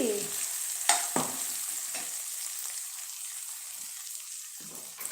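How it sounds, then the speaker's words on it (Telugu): Tomato pieces fry in a pan and get stirred: a constant close sizzle with sharp scraping knocks of the spoon early on and softer stirring strokes after. "ఇప్పుడు టమాటాలు వేసుకుందాము"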